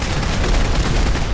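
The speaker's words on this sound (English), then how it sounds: "Ported automatic Gauss combat rifle" Automatic Gauss combat rifle from Fallout 4, modded and fired in a sustained burst: dense, continuous rapid gunfire with heavy low-end boom, loud and close, with no talk over it.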